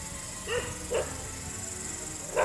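Several dogs barking at night in a rural Philippine neighborhood during a patrol, a few sharp barks spaced across the clip over a steady chorus of insects or crickets.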